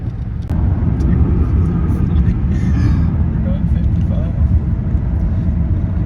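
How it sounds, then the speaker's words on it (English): Low, steady rumble of a Ford Taurus's engine and road noise from inside the moving car, a constant drone with no talking. "Flying along in the Taurus of Death over here."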